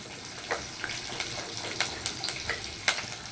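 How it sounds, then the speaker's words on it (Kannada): Curry leaves and onion fry in a couple of spoons of hot oil, a steady soft sizzle broken by scattered sharp pops and crackles, close and fairly quiet with no speech. "ಒಂದು 2 ಸ್ಪೂನಷ್ಟು ಎಣ್ಣೆ ಹಾಕ್ಕೊಬಿಟ್ಟು ಕರಿಬೇವಿನ ಸೊಪ್ಪು, ಈರುಳ್ಳಿ ಹಾಕ್ಕೊಂಡು ಒಂದು ಸ್ವಲ್ಪ ಪೌಡರ್ ಫ್ರೈ ಆಗೋವರೆಗೂ ಫ್ರೈ ಮಾಡ್ಕೋಬೇಕು"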